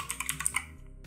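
Keys on a computer keyboard clatter in a quick run of close, crisp taps for about a second.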